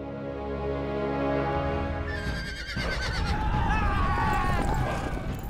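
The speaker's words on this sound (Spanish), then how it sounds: "Sin apenas esfuerzo, Gengis Khan obtuvo una gran cantidad de buenos caballos de guerra." War horses neighing loudly, a long shrill whinny followed by stamping, clattering hooves and a jumble of further neighs, close and busy as if from a mounted army.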